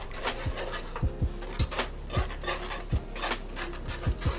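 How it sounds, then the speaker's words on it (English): A whisk mixing brown sugar and sauce for deep fried BBQ ribs: rhythmic scraping strokes against the bowl, roughly two per second, close and alone. "We're gonna break out the whisk and kind of mix to combine."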